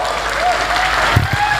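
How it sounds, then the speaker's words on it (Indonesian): A crowd at a public forum in Surabaya claps steadily, a dense wash of applause filling the room with no pauses. "Kita kasih tepuk tangan."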